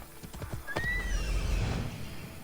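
A horse in a video game gallops with rapid hoof clip-clop, then gives a loud rising whinny that peaks and trails off over a low rumble of hooves, close and prominent.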